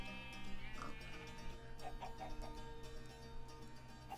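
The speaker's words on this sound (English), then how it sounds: "Well, I got a pig over there." Short pig oinks and grunts from a Minecraft animal in Skyfactory 4, several brief calls around the middle over a steady game background with music, no talk.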